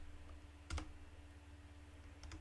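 A couple of quick key clicks on a computer keyboard, one near the start and another near the end, faint against a low steady room hum while a pip install command is entered.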